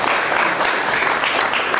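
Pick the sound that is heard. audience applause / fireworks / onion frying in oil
audience applause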